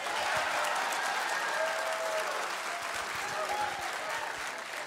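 A stand-up comedy audience applauds: a thick wash of many hands clapping at once, holding steady and tapering only slightly toward the end.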